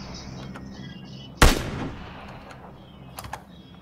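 A single sharp gunshot cracks loudly and its echo trails off, followed by a couple of fainter distant shots against a steady low background, in the video game Battlegrounds.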